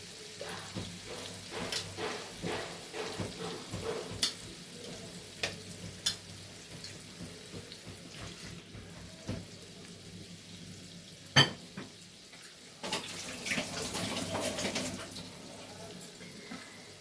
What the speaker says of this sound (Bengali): দিয়ে এবার এটাকে ভালো করে কষতে হবে